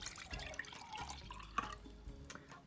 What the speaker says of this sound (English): I have poured all the water from the second one in here